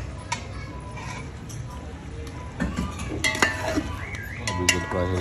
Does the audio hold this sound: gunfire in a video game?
no